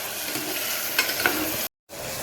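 Vegetables being tempered in hot oil in a home kitchen, a steady close sizzle and frying hiss with light stirring clinks, briefly cut to silence near the end before resuming.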